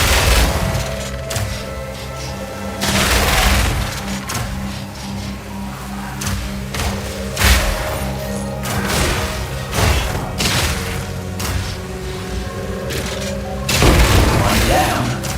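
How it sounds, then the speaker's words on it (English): Grenades blow up over and over in Path of Exile 2 amid ongoing gunfire, giving a dense run of booming thuds under a person talking throughout. "Putting down grenades and firing, but they're killing me with this, man."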